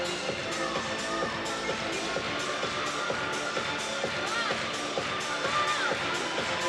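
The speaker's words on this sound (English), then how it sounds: "And the crowd seems to love it. They're clapping along." A crowd at an Ohio State versus Michigan meet claps along in a steady rhythm, regular sharp claps about every half second over the routine's music and the ambient hall noise.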